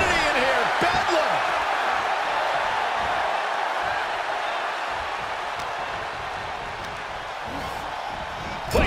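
A wrestling arena crowd in the video game WWE 2K23 roars in a steady, loud, continuous wash, with a commentator talking over it and a few thuds early on.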